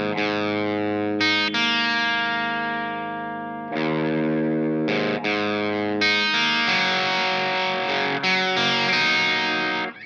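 Heavily distorted electric guitar plays an original song riff with sustained chords and shifting phrases, loud and continuous with effects-laden tone, no voices.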